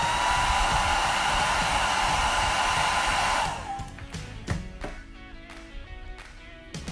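A heat gun shrinking wrench wraps onto MIP tool handles blows with a loud, steady, close roaring hiss for about three and a half seconds, then cuts off, leaving light handling clicks and taps.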